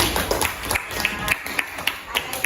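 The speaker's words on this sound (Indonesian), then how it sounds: "kasih tepuk tangan untuk kelompok Nadine." A classroom group of students applauds, with fairly quiet, rhythmic claps repeating steadily through the short stretch in a room with light background noise.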